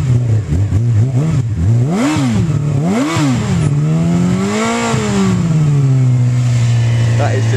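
A Honda CB600F sport motorcycle engine revs sharply in several quick blips, rising and falling in pitch, then holds a long steady rev before settling, loud and close.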